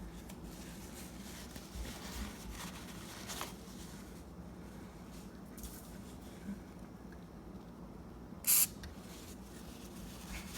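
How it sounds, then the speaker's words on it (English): A lubricant spray can gives one short, sharp hiss near the end as it coats a garage door roller, after several seconds of quiet background. "so let's do one more spray."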